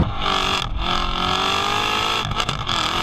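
A 2016 Chevrolet Corvette Z06 engine drones loud and steady while driving, its harmonics rising with the revs, with two brief dips where the note drops off between throttle changes.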